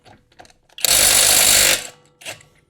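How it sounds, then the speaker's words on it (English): A cordless impact wrench fitted with a locked-on socket spins up in one loud, close, steady buzzing burst of about a second, framed by faint handling noises. "that is a really awesome impact wrench"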